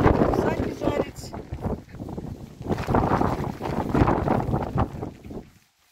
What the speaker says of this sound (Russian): Видите, какой ветер у нас.